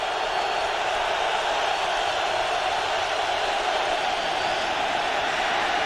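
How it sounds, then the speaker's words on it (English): Steady stadium crowd roar filling the air at a 1999 NFL game, Washington Redskins at Detroit Lions, a constant broad wash of many voices with no breaks. "with this noise and this crowd in this situation"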